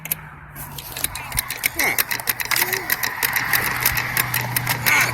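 A child's Power Wheels ride-on car running on a homemade lithium-ion battery pack whirs along at close range, a steady motor drone with knocks and rattles, while adults talk over it throughout.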